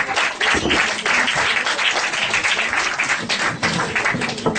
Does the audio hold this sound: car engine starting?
no